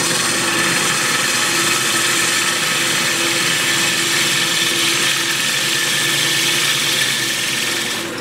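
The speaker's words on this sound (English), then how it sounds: "So we'll just continue on hollowing." Wood lathe spinning while a spalted walnut vase is hollowed, a steady loud motor hum with a continuous scraping, rushing texture of the tool cutting, unbroken throughout and with no talking.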